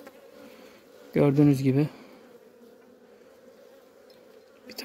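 Honeybees buzz around an open hive during beekeeping, a constant close droning hum throughout, with someone speaking briefly over it.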